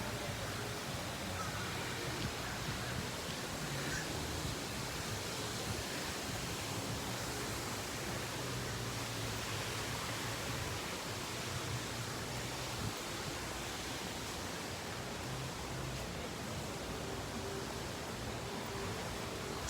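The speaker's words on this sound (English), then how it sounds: "So there's a little waterfall." A small waterfall beside a lazy river at a resort pool gives a steady, even wash of splashing water that holds at a moderate level throughout, with no voices.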